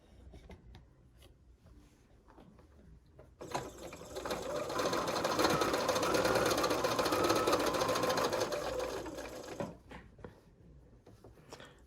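A sewing machine stitching fabric for a quilt flower patch runs steadily for about six seconds, a fast whirring hum, framed by quieter handling and rustling of fabric before and after.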